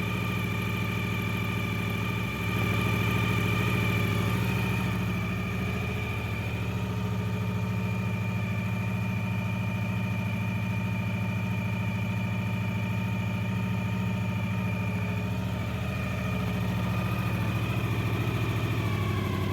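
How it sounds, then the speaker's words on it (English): A Honda VFR 750 motorcycle engine idles steadily with a low, even hum and a faint metallic rattle from a suspected exhaust manifold leak running through it, close by with no talking. "You can hear something is rattling"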